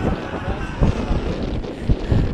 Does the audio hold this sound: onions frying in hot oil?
no